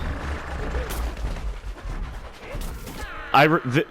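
Regular weapon shots from a plant character in a Plants vs. Zombies Lawn of Doom match crackle in a rapid, steady barrage mixed with other game effects, with a voice talking over the action toward the end.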